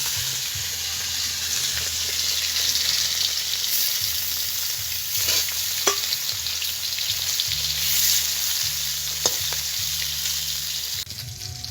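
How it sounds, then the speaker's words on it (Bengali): Small rohu fish, rubbed with salt and turmeric, sizzling in hot oil, a steady close-up crackling hiss with a faint low hum underneath, no voices. "তেল গরম হয়ে গেছে, মাছটা দিয়ে দেবো"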